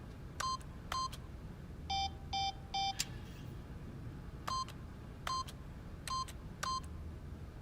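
Keypad PIN code entry in the video game The Stanley Parable: a series of short, clear electronic beeps, some in quick pairs, evenly spaced over a faint background hum.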